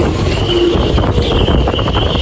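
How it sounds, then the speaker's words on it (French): Wind roars steadily against the microphone at a marina on the Ligurian coast during a gale, with a continuous buffeting rumble and a faint whistling tone overhead. "Quel vent!"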